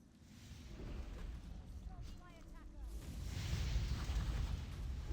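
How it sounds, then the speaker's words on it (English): Dynamite blasts boom in the video game Warrior, deep rumbling explosions swelling and rolling on over several seconds while a voice talks over them. "look at those beautiful dynamites going out"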